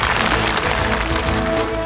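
A studio audience at a televised singing competition applauds loudly and continuously, a dense close wash of clapping with music underneath.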